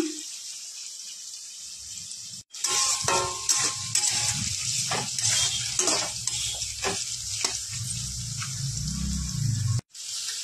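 Panch phoron spice mix and extra fennel seeds sizzling in hot oil for a Bengali chholar shak ghonto: a steady, close crackling hiss with sharp pops, cut by two brief silent breaks.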